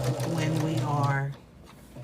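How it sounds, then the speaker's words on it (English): A sewing machine stitches quilt block pieces together in a fast, steady mechanical whir that stops abruptly partway through, under close talk. "sewing the pieces of the quilt block or the quilt together"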